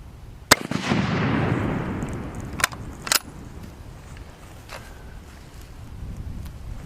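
Several gunshots fired at targets on an outdoor shooting range: one sharp loud report with a long rolling echo, then two closer-spaced cracks and a fainter distant shot, with wind noise between them.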